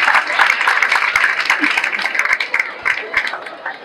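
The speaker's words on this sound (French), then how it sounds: "je voudrais des applaudissements à l'endroit du coordonnateur" A school crowd at a ceremony in a lycée claps for the coordinator, a dense, steady patter of hand claps at moderate distance with some voices mixed in.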